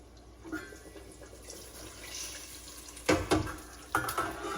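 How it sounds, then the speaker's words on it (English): Water is poured from a tap into a pot of tomato sauce for Italian meatballs, first as a faint trickle, then as two louder splashing bursts close by. "we're going to put some water in for the residue"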